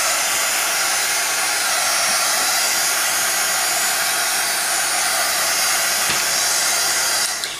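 A heat tool blows steadily and loudly over an embossed mixed-media tile to dry alcohol ink. The close, unbroken airy roar holds for several seconds with no talk over it.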